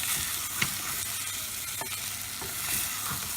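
Mutton frying with curry leaves in a pan gives a dense, continuous close sizzle, with a few soft scrapes and knocks as it is stirred.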